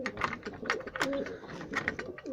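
A flock of pet pigeons coos nearby in repeated soft, rolling calls that overlap, with fluttering and rustling sounds between them.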